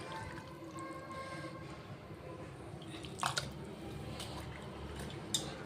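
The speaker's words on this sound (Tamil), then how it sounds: "மஞ்சள் தூள் உப்பு கலந்ததில் போட்டு இன்னும் ஒரு 5 minutes கழுவிக்கலாம்." Raw mutton is squished and rubbed in water, with soft sloshing, drips and a couple of sharper splashes, quiet and close.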